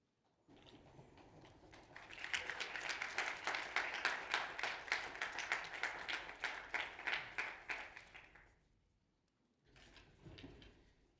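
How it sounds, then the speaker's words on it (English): Audience applause for graduates at an NTHS industrial trades induction ceremony in a hall, swelling from scattered claps into steady rhythmic clapping that fades out, followed by a brief second burst. "go and stand up and give an applause to those who have been"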